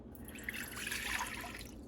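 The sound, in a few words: liquid poured into a pot on the stove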